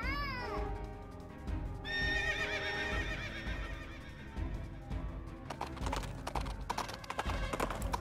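A stage horse in the video game Princess Peach Showtime neighs with a loud, high whinny that falls away, followed by further whinnying and quick clip-clop hoofbeats over busy theatrical game music, with no talking.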